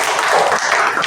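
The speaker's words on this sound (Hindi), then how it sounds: "तो ताली बजाओ।" A classroom of students clapping their hands together, a dense, loud burst of applause lasting about a second with no talking over it.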